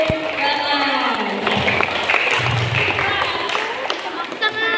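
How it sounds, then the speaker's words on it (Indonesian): An audience at a school religious event in Indonesia applauds for a young participant, a dense patter of clapping under a voice speaking over it. "tepuk tangan untuk Aufa."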